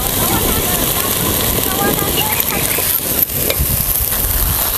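Mango rice ingredients sizzle and crackle steadily in a hot pan while being stirred and sautéed, loud and close, with a brief scrape of the spoon partway through.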